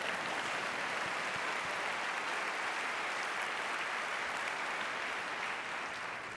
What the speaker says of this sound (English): You can applause for that.